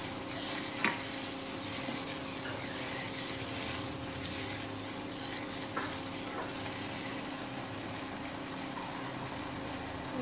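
A soft, continuous frying hiss fills the pan as food roasts for methi mutter malai, with a steady low hum underneath and a couple of brief utensil clicks, fairly quiet and close.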